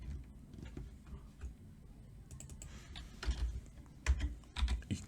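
Quiet typing on a computer keyboard while entering data into an Excel spreadsheet: light, uneven clicks in short bursts, close and faint, with no talk.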